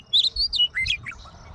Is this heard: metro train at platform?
no